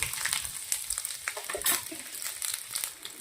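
Chopped ginger frying in a pan of hot oil for a chilli paneer starter, with a bright continuous sizzle and crackle close by and light stirring scrapes throughout.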